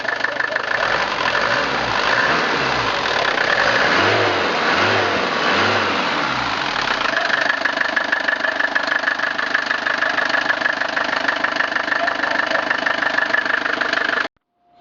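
An old 2.4-litre non-turbo diesel engine runs close by with a steady clattering idle; early on it revs up a few times in rhythmic surges before settling.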